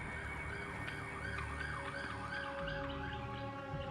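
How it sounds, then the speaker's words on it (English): An emergency vehicle siren wails in steady rising and falling sweeps at a moderate distance, heard alone over low rumbling background noise throughout, then stops. "The siren stopped,"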